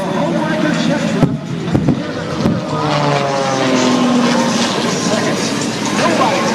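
At the 2019 Greenwood Lake air show, the Homewrecker jet truck with 18,000 pounds of thrust holds a sustained, loud jet roar and rising whine nearby, while an announcer talks over it.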